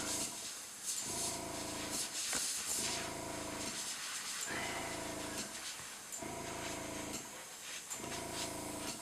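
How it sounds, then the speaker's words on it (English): An Iwata Neo airbrush fed by a Harbor Freight air compressor sprays in repeated bursts while coating scale model pine trees, soft close hissing broken by brief pauses, with the compressor humming underneath. "And yes, I am using a Harbor Freight air compressor for my airbrush."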